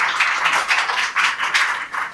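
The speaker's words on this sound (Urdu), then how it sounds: "بھرپور تالی گونج میں استقبال" Audience applause welcoming a speaker at an Iqbal Academy Pakistan seminar, a modest group clapping in uneven bursts, fairly close and clear with no talking over it.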